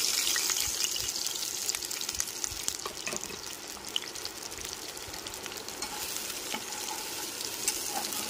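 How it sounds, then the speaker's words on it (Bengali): Cumin and Kashmiri chilli spice paste sizzles hard in a hot pan with a steady, loud frying hiss and a few crackles and stirring scrapes, without speech. "ফোড়নটা ভালো করে ভাজা হয়ে গেলে পরে মশলার পেস্টটা দিয়ে দিলাম।"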